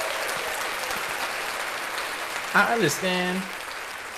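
Applause from a podcast audience fades under a short spoken remark, the clapping continuing as a soft steady patter behind the voice.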